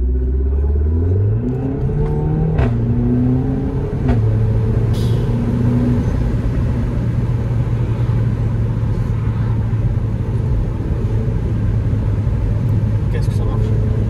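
A Renault Megane 4 RS accelerates through the gears, its engine rising in pitch, dropping at each shift and then pulling strongly, with someone talking over the steady road rumble inside the car.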